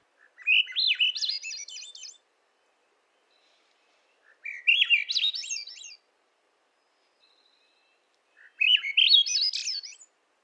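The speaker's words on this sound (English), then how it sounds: "The song of the varied thrush is so pretty, and it's wild." A varied thrush sings three separate phrases, each a rising, warbling burst of bright notes lasting about two seconds, set apart by clear pauses and heard alone.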